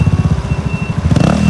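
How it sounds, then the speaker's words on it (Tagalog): A small motorcycle engine idles right after repair, with a loud rapid chugging putter close by, alone and without talk. "So Roy, i-try mo daw yung motor mo kung umaandar na ba?"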